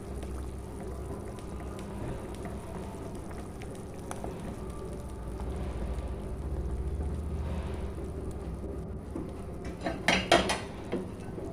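Squash is stirred into chicken and vegetables in a cooking pot, giving a steady low simmering rumble with a few close metal clinks and scrapes near the end.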